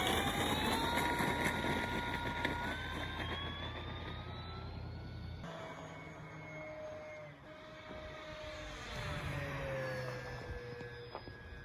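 An E-flite P-47 1.2 meter RC model plane, fast, flying outdoors with a steady electric motor whine that rises and falls in pitch as it passes, fairly loud and continuous with no talking.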